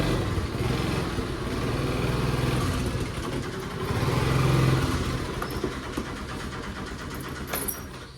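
A motorcycle engine idling and revving unevenly while the bike is moved and parked, a close, continuous mid-pitched rumble that swells and fades, with no talking.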